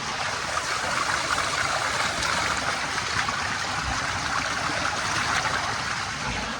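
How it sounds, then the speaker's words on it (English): Cold spring water flows near a trout stream in the Driftless region, a steady, close, hissing trickle and gurgle that runs evenly throughout with no talk over it. "So I found this spring not too far from where I've been fishing at."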